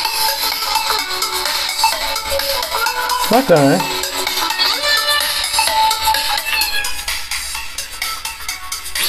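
Ringtone melody playing from the loudspeaker of a Poco M4 Pro 5G smartphone, bright and steady for about nine seconds, with someone talking briefly over it.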